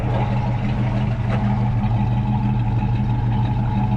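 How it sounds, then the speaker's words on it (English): Steady, close idle from the dual exhaust of a 1970 Pontiac Firebird's numbers-matching 400 engine, a deep even burble that holds at constant loudness throughout with no talking. "It's a beautiful sound coming out of that numbers matching 400."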